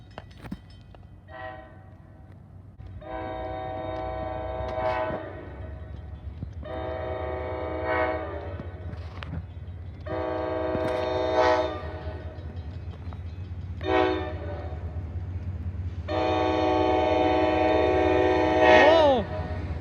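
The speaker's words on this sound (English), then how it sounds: "Great sound of the Nathan K5LA air horns." Nathan K5LA air horns on an NJ Transit GP40 locomotive blare in a series of loud chords of varying length near a station, over the low rumble of the approaching train.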